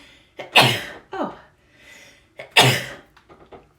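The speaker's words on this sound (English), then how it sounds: "I successfully sneezed without peeing." Two sharp, loud sneezes from one person about two seconds apart, each with a quick intake of breath before it and small breathy sounds after it, close to the microphone.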